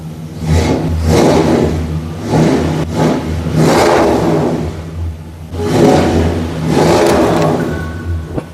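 Loud, close revving from a 1966 Ford Galaxie engine fitted with new exhaust, deep rumbling bursts rising and falling about six times over a steady idle, with no talking.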